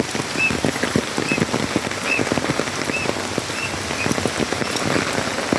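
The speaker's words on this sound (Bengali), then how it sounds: "আজকে মোটামুটি সকালে খুব ভালোই বৃষ্টি হচ্ছে।" Heavy morning rain falls on a village dirt road as a dense, steady patter, with a few faint high bird chirps breaking through now and then.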